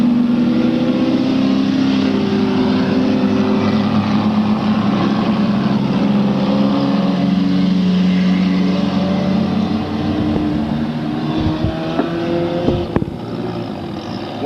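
Race cars running laps on a track during a feature race, loud steady engine drone with pitch rising and falling as cars pass, a few sharp clanks near the end.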